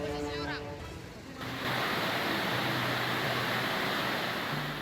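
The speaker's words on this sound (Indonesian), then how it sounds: "Debit air terjun Bantimurung di Kabupaten Maros, Sulawesi Selatan meningkat pasca kawasan ini diguyur hujan deras beberapa hari terakhir." Heavy roaring torrent of Bantimurung waterfall in Maros, South Sulawesi, swollen after days of rain, a dense, loud, steady wash that takes over after a brief musical sting at the start.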